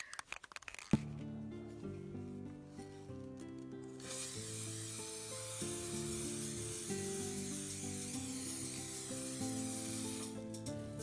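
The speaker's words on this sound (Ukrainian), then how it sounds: "Поверху фарби я ще з балончика нанесла лак глянцевий і поставила висихати." Glossy varnish sprayed from an aerosol can over primer and acrylic paint on a handmade cement-and-rag flower pot. The steady, bright hiss begins after a few seconds and keeps going, with music playing underneath.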